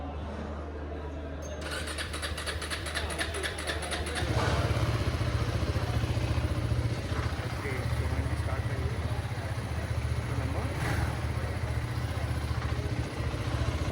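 A motorbike in blazing sun starts up after a faint idle and then holds a loud, steady engine drone, with some talking in the background.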